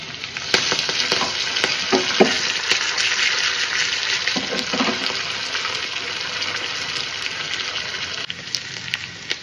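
Garlic and curry leaves sizzle hard in hot oil for a tadka, a bright, steady hiss with bursts of crackle and a few clinks from a utensil, close and loud throughout with no speech.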